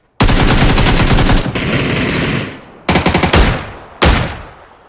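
Automatic gunfire in the video game PUBG: a long sustained burst, a pause, then two shorter bursts and a final sharp volley, loud and close with echoing decay and no voices.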